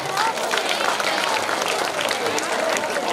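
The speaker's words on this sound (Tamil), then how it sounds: "கிளாப் பண்ணுங்க" Audience applause at a Krishna Jayanthi prize-giving ceremony in Kuruvadi, a dense, steady wash of many hands clapping throughout with crowd murmur mixed in.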